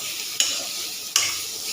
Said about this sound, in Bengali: বেগুন আর উচ্ছে ভাজা হয়ে গেছে